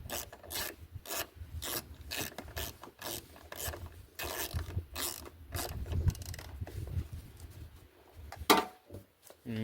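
A ratchet tightens screws on a 2003 Mitsubishi Galant, producing rapid, rasping clicks in uneven bursts with short pauses. The sound is close and fairly loud and runs on alone.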